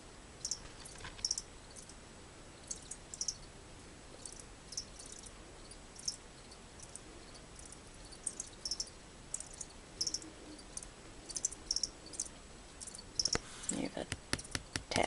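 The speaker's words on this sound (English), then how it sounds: "There's two crickets in here." Faint, high chirps from two large crickets in an enclosure repeat in short bursts over a quiet background hiss, with clicks and a quick flurry of chirps near the end.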